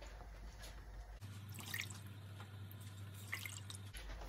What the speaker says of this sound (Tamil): இப்போ ரசத்தை வந்து வடிச்செடுக்கணும்.